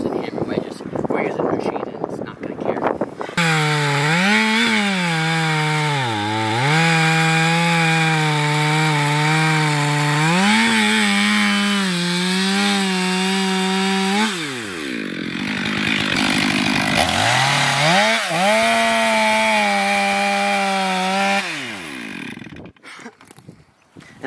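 A chainsaw runs steadily while cutting into a tree bigger than its bar, the engine droning loud and close with pitch dips as the saw bogs and recovers, someone talking over it.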